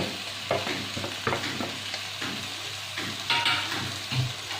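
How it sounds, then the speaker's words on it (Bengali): Fried potol (pointed gourd), prawns and boiled potato are stirred into masala in a hot pan, giving a steady low sizzle with repeated scraping strokes of a spatula, close and moderately loud, with no talking. "খুব ভালোভাবে মিশিয়ে নেব মশলার সাথে। চিংড়ি, পটল, আলু, মশলা খুব ভালোভাবে মিশিয়ে নেব।"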